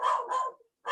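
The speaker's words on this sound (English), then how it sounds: "Sorry, my dog's kicking off as well." A pet dog barking at home during an online council meeting, two loud close barks in quick succession, then a third bark starting after a short gap, with no talk.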